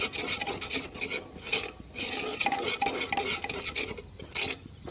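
Spices are stirred into a potato-pea curry in a pan: a close, steady scraping of a spoon against the pan in repeated strokes with a faint sizzle beneath, no voices.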